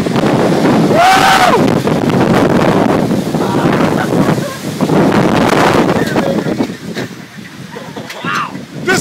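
Strong wind roars and buffets the microphone steadily during a near-tornado storm in Kenosha, Wisconsin, with a brief voice and gusty surges over the roar.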